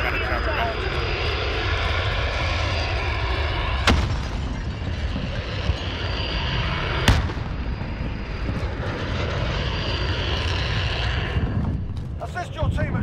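Fixed-wing aircraft engines roar loudly and continuously as planes fly over in a combat video game, with sharp booms like artillery or explosions cutting through twice, and players talking over the din.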